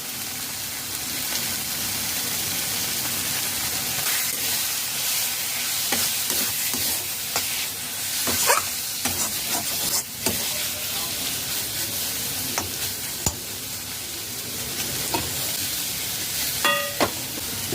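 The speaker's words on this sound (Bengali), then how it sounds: "পাঁচ মিনিট নাড়াচাড়া করে রান্না করে নিয়েছি" Lau dal, bottle gourd lentils with green chillies and coriander, sizzles steadily in a pan while a spoon scrapes and stirs in intermittent knocks and clinks close by.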